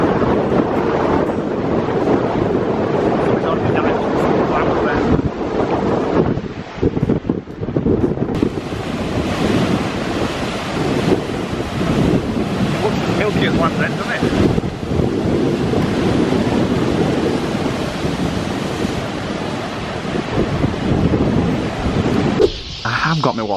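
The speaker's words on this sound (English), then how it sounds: "Bit rough today. Rough sea. It's windy. Very windy." Rough sea surf and strong wind on a coastline in Lanzarote, a loud, continuous roar of crashing waves with heavy wind buffeting the microphone, and a voice speaking briefly over it.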